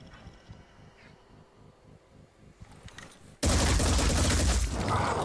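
Gunfire in the tactical game Phoenix Point starts with a quiet rumbling backdrop, then erupts into a sudden, very loud, sustained volley that holds steady to the end.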